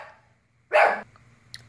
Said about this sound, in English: I have a little dog here.